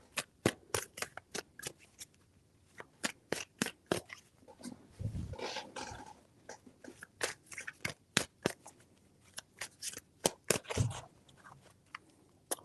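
Tarot cards are handled and shuffled in sharp, close, separate taps and flicks, with a longer riffling rustle around the middle, fairly quiet and with no voice.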